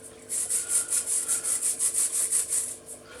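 Coffee granules are pushed and scraped through a sieve with the back of a spoon, about a dozen rhythmic, even gritty rubbing strokes close up, with no talk.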